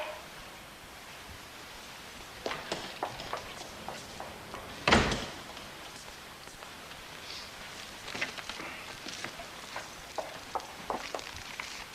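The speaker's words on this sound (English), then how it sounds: "I thought I heard the back door shut." A back door shutting in a house, heard as one firm thump midway through, surrounded by faint scattered knocks and rustles at moderate distance, with no talk.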